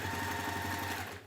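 A sewing machine stitches up close in a rapid, steady mechanical chatter with a humming motor underneath, running evenly alone before winding down at the very end.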